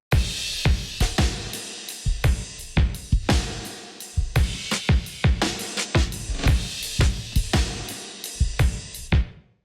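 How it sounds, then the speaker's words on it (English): Big, orchestral-style live drum kit recorded all at once with bleed between mics, playing a steady driving groove of heavy kick and snare hits with cymbal wash throughout, loud and continuous. "But the drums altogether sound like this."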